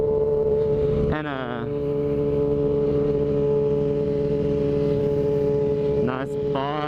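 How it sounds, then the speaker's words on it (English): A Ducati motorcycle rides past with a steady engine drone and rising revs near the start and end, heard from another moving motorcycle, with wind and engine noise throughout. "Look at that Ducati though."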